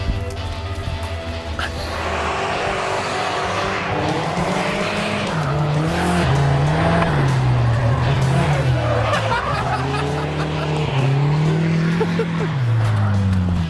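Drift car spinning out with sustained, loud tire squeal rising and falling in pitch over a steady engine roar, continuous throughout with faint crowd babble behind.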